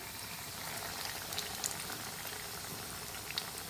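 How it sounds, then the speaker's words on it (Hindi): Chicken potato cutlets shallow fry in oil over a medium flame, giving off a steady, close, bubbling sizzle with a few faint pops. "मीडियम फ्लेम पर हम शैलो फ्राई करेंगे।"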